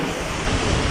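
Wind and blown-back spray behind Millaa Millaa Falls make a steady, loud broadband roar with rumbling gusts buffeting the microphone, close and continuous.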